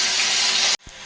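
Whole cumin seeds and chopped onion hit hot oil, giving a loud, close, hissing sizzle that lasts under a second and then cuts off sharply.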